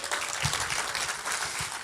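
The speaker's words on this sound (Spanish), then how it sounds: "Denle un aplauso al Señor." Church congregation applauding during a sermon at Iglesia Vida Eterna, a steady wash of many hands clapping at moderate level with no voices over it.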